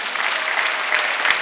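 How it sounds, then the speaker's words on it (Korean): A congregation claps together during a church service, a dense, even burst of applause that fills a short moment. "박수 좀 쳐요"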